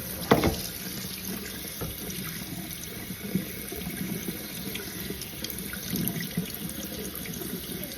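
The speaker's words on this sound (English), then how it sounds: "You rinse it off until you see no more bubbles." Tap water runs steadily into a kitchen sink while something is rinsed under it, a continuous close splashing hiss with a few louder splashes and no talk.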